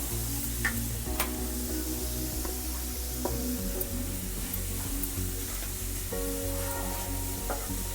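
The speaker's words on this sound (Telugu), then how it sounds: "తడి పోయే వరకు స్టవ్ సిమ్లో పెట్టి వేయించుకున్నాను" Grated carrot for a pickle frying on the stove over low heat, giving a soft, steady sizzle with scattered clicks and stirring knocks beneath background music.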